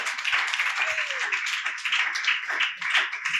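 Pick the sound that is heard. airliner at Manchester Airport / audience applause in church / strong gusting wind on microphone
audience applause in church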